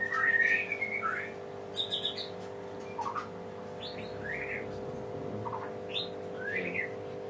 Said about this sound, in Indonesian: di sini maaf agak keganggu juga sama suara burung, karena kebetulan di atas ini juga ada ternakan burung murai